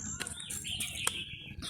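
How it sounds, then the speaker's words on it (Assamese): Many birds chirp and tweet in a peepal tree, their short bright calls overlapping at close to middle distance over a low background murmur. "আহঁত গছত ইমানবোৰ চৰাই পৰি আছিল বৰ ধুনীয়া শব্দ"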